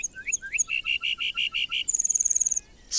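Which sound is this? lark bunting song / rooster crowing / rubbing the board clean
lark bunting song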